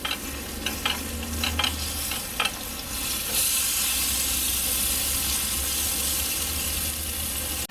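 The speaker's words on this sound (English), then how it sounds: "Let that get a little bit of sizzle action. A little butter braised." Steady, close sizzling of an English muffin frying in butter in a hot pan, with a few light scrapes and clinks early on before the hiss evens out.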